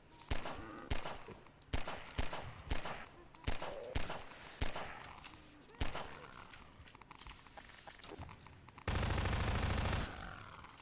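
Sharp, evenly spaced single gunshots ring out in a zombie video game, loud and close, followed by a harsh burst of continuous noise near the end.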